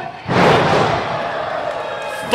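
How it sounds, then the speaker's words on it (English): A professional wrestler is driven onto the ring mat with a suplex, a heavy slam followed by a loud, sustained roar from the indie wrestling crowd that swells and then holds steady. "Folded him up with that suplex there."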